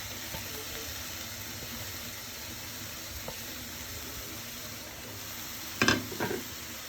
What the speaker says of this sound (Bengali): এখন আমরা মূলা শাক ভাজি করবো